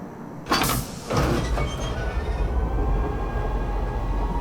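A tram arrives at a Lorville station platform in the video game Star Citizen. A sudden whooshing onset gives way to a loud, steady mechanical rumble and hum that persists to the end.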